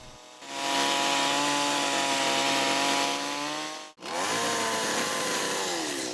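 A chainsaw runs loud and close at high revs, briefly cutting out, then roaring again as it bites into wood while carving a statue.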